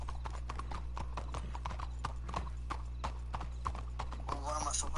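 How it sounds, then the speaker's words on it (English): Horse hooves clip-clop in a steady, rapid rhythm in a roleplay video game, with a low hum underneath and a brief neigh-like sound near the end; people talk over it. "he's just using his horse"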